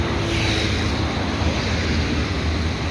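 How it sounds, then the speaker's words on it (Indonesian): A large river flows through Bogor Botanical Garden on a morning walk, a continuous broad rushing wash of water that stays steady and fairly loud with no talking. "sangat besar sekali sungainya"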